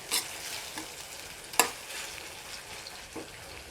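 A spoon scrapes and clinks against a pan a few times while stirring ginger-garlic paste over a soft, steady sizzle of frying, for matar paneer.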